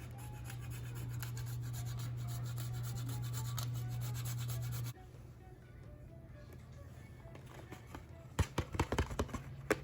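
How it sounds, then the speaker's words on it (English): Fresh nutmeg rubbed against a microplane, a steady rasping scrape that runs close and continuous for several seconds, then stops and leaves quieter handling sounds and a few sharp taps. "I just like to use a microplane, or just you can use like a grater and just grate off some fresh nutmeg"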